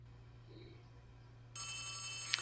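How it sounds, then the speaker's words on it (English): In the video game Poppy Playtime Chapter 3, a telephone suddenly starts ringing partway through, its bright electronic ring rising over a quiet, low background hum. "or as they continue to hear the phone ring"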